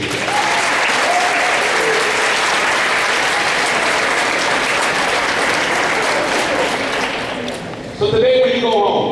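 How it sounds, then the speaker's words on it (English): Sustained applause from a school assembly audience clapping loudly and steadily, with cheering voices mixed in, before the clapping fades and someone talks near the end. "Now, if you believe it, clap your hands."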